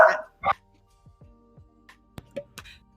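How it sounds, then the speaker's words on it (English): A dog barks in short, separated bursts, loud at first and then fainter and more scattered, while soft speech can be heard now and then. "I think the barking is over"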